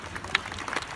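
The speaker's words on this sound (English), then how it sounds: "Let's give them both a round of applause." Brief audience applause at an entrepreneur gathering in Bangkok, scattered claps from a modest crowd lasting about a second.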